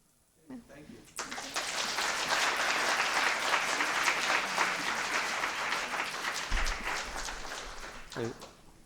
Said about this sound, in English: let's give our briefers another round of applause